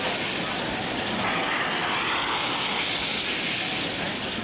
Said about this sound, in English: Another exhibition car, the Speed Sport 4 from Arizona, takes off like a rocket in a cloud of hot rubber smoke.